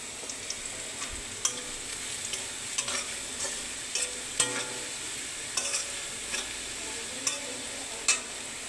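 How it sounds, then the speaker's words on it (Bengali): Potatoes frying in a pan with a pinch of turmeric powder, a steady close sizzle broken by sharp intermittent scrapes and taps of a spatula stirring against the metal. "আলুটা ভাজা হইল, এখন সামান্য একটু হলুদের গুঁড়ো দিয়ে দিলাম।"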